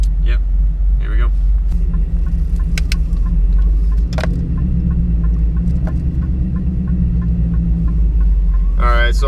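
Cammed Chevrolet Silverado with a 220R cam and stock torque converter rumbling steadily while cruising in drive, a loud lumpy low idle-like drone inside the cab with occasional clicks and a brief voice.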